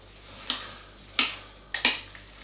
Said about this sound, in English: I'm going to get that stirred up